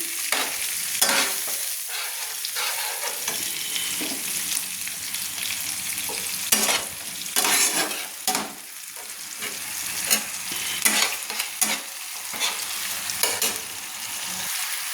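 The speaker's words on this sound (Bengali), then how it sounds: "দিয়ে ভালো করে নেড়ে নিচ্ছি" Ginger paste fries in a pan for lau chingri, a steady close sizzle broken by repeated scraping strokes of a spatula stirring it, with no talking.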